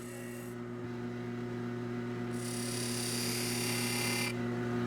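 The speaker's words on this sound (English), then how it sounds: "Now for a very gentle peel scrape cut to remove the waste." A wooden box turning on a wood lathe takes a gentle peel scrape cut, with a faint, steady motor hum underneath and a soft, hissing scrape of the tool against the spinning wood for about two seconds.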